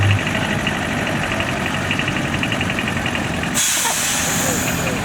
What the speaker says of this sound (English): Another J-Type just coming past. Now this one's got the petrol engine in it, 6-cylinder petrol.